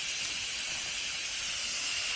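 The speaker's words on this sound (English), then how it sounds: "Now it's releasing the rest of the steam." Steady, loud hiss of steam venting from an Instant Pot pressure cooker after cooking smothered pork chops, a continuous bright rush with no break throughout.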